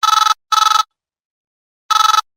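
A telephone rings on a call to an employer, a bright trilling electronic ring in short bursts: two quick bursts, a pause, then a third.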